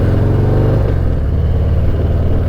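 A 2019 Harley-Davidson FXDR motorcycle engine runs loud and close with a deep, steady throb that rises slightly as it revs.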